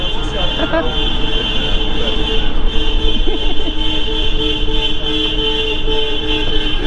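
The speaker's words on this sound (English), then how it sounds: "They're honking for hope, which I think is a rather nice message." Coach horns honk in a steady sustained chorus at a protest by the coach industry, loud and continuous under general crowd and traffic noise, with voices mixed in.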